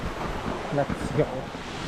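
Goa Raja waterfall in eastern Bali gives a steady rushing hiss of falling water, with brief voices rising over it partway through.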